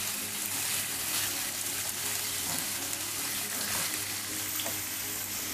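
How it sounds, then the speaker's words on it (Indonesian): Beef sautéing with spice paste in a pan gives a steady, close sizzle and frying hiss throughout, with faint stirring scrapes and no talking. "Jadi dagingnya ditumis dulu bersama dengan bumbu tumis"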